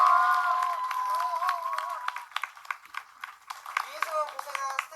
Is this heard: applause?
yes